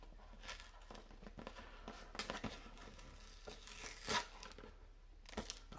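Someone peels a JG sticker off the cardboard box of a JG MAC10 JG0452 airsoft gun, making close, crinkly tearing and crackling bursts that come in uneven spurts, with a sharper rip near the end.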